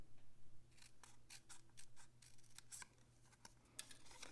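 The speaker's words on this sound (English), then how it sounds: "bring in our paper snips. And I'm going to cut away these two little small sections on the top and the bottom" Paper snips cut away small sections of paper for a small treat holder, giving a quiet series of short crisp snips and rustles close by, irregular in rhythm.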